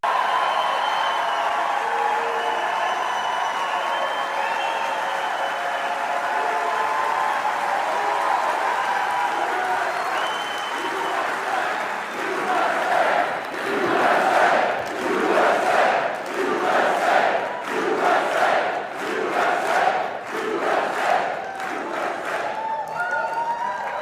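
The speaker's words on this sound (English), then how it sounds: "The crowd went absolutely crazy when Secretary of Health and Human Services, RFK Jr., came on stage." A large crowd at the Kennedy Center roars and cheers, with bursts of applause and clapping swelling midway through and staying loud and dense to the end.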